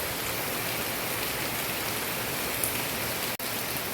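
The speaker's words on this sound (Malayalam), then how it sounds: "ഈ വീഡിയോയിൽ കേൾക്കുന്ന ശബ്ദമൊക്കെ മഴയുടെയാണ് കേട്ടോ." Heavy rain falls steadily on a leafy outdoor garden with a coconut tree and money plant. A dense, even hiss continues for the whole stretch, and no one speaks.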